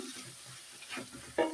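Chicken frying in teriyaki sauce in a pan, stirred with a few soft scraping strokes over a steady low sizzle, ending in a louder, sharper clatter of the utensil near the close.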